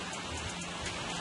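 Heavy rain falls during a downburst storm, a dense, unbroken wash of hiss with no distinct drops and no voices.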